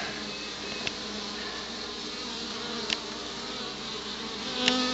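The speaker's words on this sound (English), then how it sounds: "We got a couple of bees over there in the corner trying to fight." Honey bees swarm and buzz steadily at the entrance of a hive in a Gatlinburg cabin, a dense continuous drone with a few bees fighting, marked by three sharp brief flares of louder buzzing.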